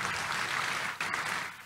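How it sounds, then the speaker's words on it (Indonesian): A church congregation applauds during a Sunday sermon: a dense, steady wash of clapping, fairly close and continuous, with a short dip near the middle. "Tepuk tangan yang meriah buat Tuhan."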